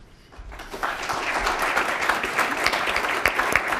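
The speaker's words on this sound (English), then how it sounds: "That's what we call polite applause" Polite applause spreads through the National Press Club audience in Australia after an address by Dr Kurt Campbell, starting thin and swelling into steady, moderately loud clapping from many hands.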